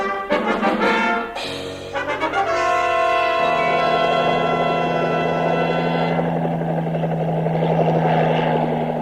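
A helicopter engine drones and whines steadily, its rotor thrum strong and close after a few sharp bursts at the start.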